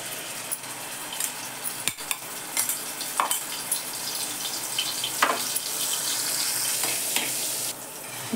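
Chili paste sizzles in hot oil in a kadhai, with a steady frying hiss broken by sharp clicks and scrapes of a spoon stirring nearby.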